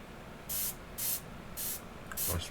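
Four short hissing bursts of airbrush overspray come from a distance while painting a skin tone, evenly paced and soft against a low background hiss, with no talk.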